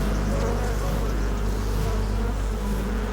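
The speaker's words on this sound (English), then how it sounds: "You can just see all these bees here. The noise, again," A swarm of honey bees buzzes loudly and continuously around a beehive in the Gaza Valley, a dense close drone that stays level throughout with no break.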